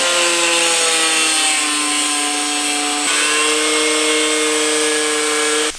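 A power tool whines loud and steady while trimming a plastic fender liner on a BMW 335i, its pitch dropping slightly partway through before it cuts off at the end.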